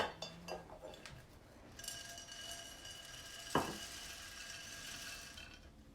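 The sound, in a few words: mixing food ingredients together in a dish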